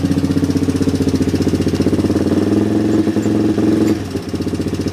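A flooded Yamaha 225DX three-wheeler engine runs on choke, a loud, steady, throbbing idle with a rough, uneven stretch near the end before settling back.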